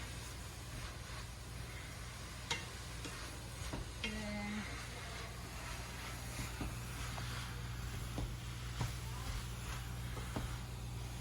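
Cabbage being stirred and tossed in a hot pan, soft scraping and occasional clinks over a constant low sizzle and background hum, fairly quiet and close.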